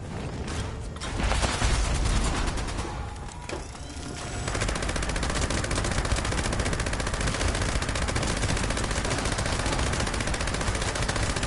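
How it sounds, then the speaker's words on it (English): Rapid, continuous gunfire from an anti-armor prime Gauss Minigun in the video game Fallout 76, loud and sustained for most of the stretch, with a brief spin-up of mechanical whirring and clicking near the start. "Anti-armor prime Gauss Minigun."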